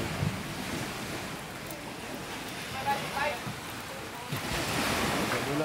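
Ocean waves at a beach resort in Tukuran, Zamboanga del Sur, wash in a continuous broad surf roar, rising near the end, with wind buffeting the microphone and people talking in the background.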